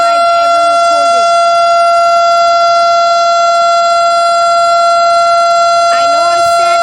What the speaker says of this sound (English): This is the first siren I've ever recorded.